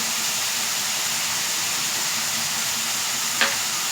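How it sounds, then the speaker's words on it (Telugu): Onions fry in a pan with ginger-garlic paste for a gongura mutton curry, giving a steady, close sizzling hiss. A single faint clink of a utensil sounds near the end. "ఆనియన్ ఫ్రై అవుతుంది కదా, ఇందులోనే అల్లం వెల్లుల్లి పేస్ట్ వేస్తున్నాం"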